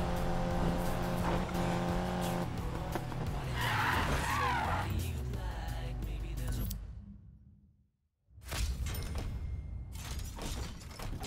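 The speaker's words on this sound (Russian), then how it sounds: "дрифтовать 800 метров и выиграть гонку" Car drifting in the racing video game Need for Speed Payback, a loud continuous engine roar with tire squeal and skidding, briefly cutting to near silence before the engine noise returns.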